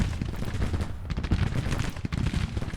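Dense, continuous musket volleys crackle and rumble in the Civil War strategy game Grand Tactician, heavy overlapping shots rolling without pause, no voices over it.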